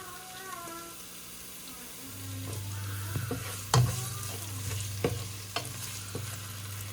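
Beans and other vegetables frying in a pan, a continuous sizzle with a low hum beneath and intermittent clinks and scrapes of stirring, close up.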